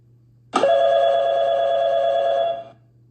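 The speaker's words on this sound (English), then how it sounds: "When ATIS is received, there's a scratchpad message and ringtone." A steady electronic cockpit ACARS message chime starts abruptly and holds for about two seconds before cutting off, clear and loud over a faint hum.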